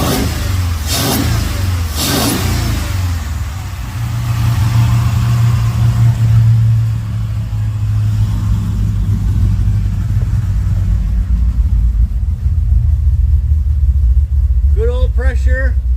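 A freshly installed hot rod engine runs close by with a deep, rumbling mid-pitched note, swelling with a few revs and then holding a steady, throbbing idle throughout.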